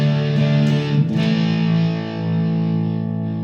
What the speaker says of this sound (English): to me, that sounds more like a US Dream distortion pedal